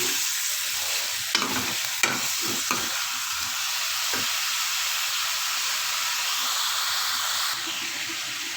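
Onions frying in oil for chicken karahi give off a steady, loud sizzle, with a few sharp spoon-scrape knocks early on and the hiss easing slightly near the end; no voices.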